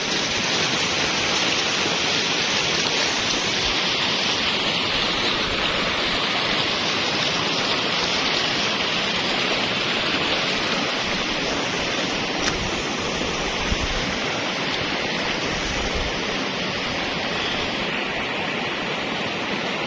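Fast, churning river water rushes below a gabion flood embankment on the Semeru lahar channel, a steady loud broadband roar that fills the whole stretch without pause.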